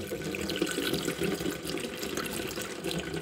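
Tap water running steadily into a pot held close under a sink faucet, a continuous splashing fill heard up close throughout.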